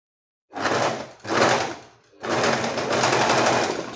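Overlock serger sewing machine runs in two quick bursts followed by a longer steady stitching run, a close, loud mechanical buzz with brief pauses between starts.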